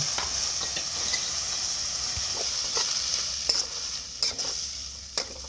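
Grated tomatoes frying in hot oil with chilli paste for a jackfruit seed and prawn kofta curry, a continuous close sizzle with repeated stirring scrapes and clinks growing sharper toward the end.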